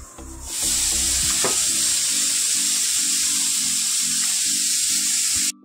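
Ridge gourd and potato posto cooking in a pan, a loud constant sizzle close up with faint rhythmic stirring or tapping pulses underneath, running the whole time without speech.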